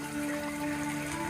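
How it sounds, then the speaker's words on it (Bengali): Raw milk, 100 grams, poured into a pan of prawn curry during village-style cooking, a soft steady liquid splash and gurgle that runs throughout at low volume, with a faint tonal hum behind it. "100 গ্রাম দুধ দিয়ে দিলাম"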